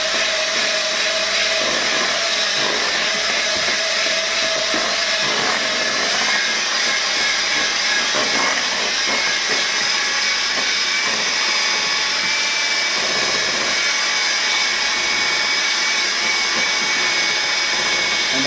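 An electric mixer runs at low speed through banana cake batter, a steady whirring motor hum that holds throughout with slight shifts in pitch and no talking.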